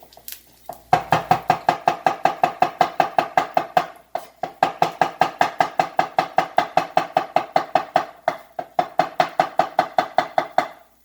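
Knife thinly slicing garlic on a cutting board, a fast, steady run of crisp rhythmic chops with brief pauses, close and alone.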